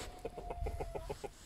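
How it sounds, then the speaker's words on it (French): A young hen clucks close by in a quick, regular series of short, soft clucks, about ten in a row, with no talking. "Donc voici la petite poule."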